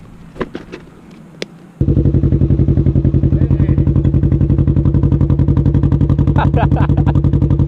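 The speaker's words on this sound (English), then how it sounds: "Burning a hole in Brian's pants with that new RLS Exhaust Predator on the Ryker 600" After a quiet start, a loud Can-Am Ryker 600 three-wheeled motorcycle with an aftermarket RLS Predator exhaust bursts into a fast, rough, throbbing idle with a heavy popping exhaust, sustained and close.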